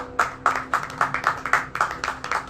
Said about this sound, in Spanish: Ten el aplauso de Rey en esta mañana poderosa.